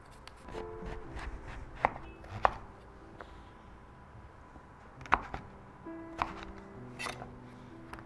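A kitchen knife slices through celeriac with a circular cutting motion, giving scattered sharp clicks and taps against the board over a low, steady background.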